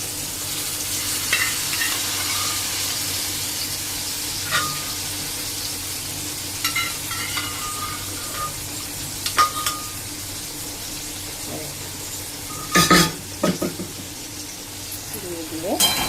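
Boiled eggplant and potato being stirred into a frying pan, a soft steady sizzle under scattered spoon scrapes, with a cluster of louder scraping knocks near the end.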